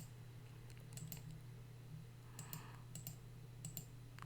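Soft computer clicks, a few single and paired taps scattered over a low electrical hum, recorded close and quiet while working in a Power BI dashboard, with no speech.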